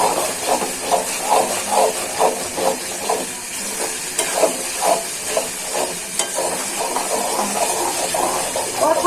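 Chepa dried fish bharta with garlic sizzles and hisses in a pan while being stirred, with rhythmic scraping bursts about twice a second over a steady close frying hiss.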